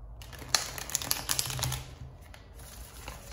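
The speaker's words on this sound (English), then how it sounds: "2 more shuffles, Leo." Tarot cards being shuffled by hand, a papery riffling and crinkling that comes in close, quick bursts, busiest in the first half and then thinning out.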